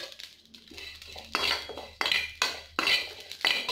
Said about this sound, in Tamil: அடுத்து சோம்பு வறுத்துக்கலாம்.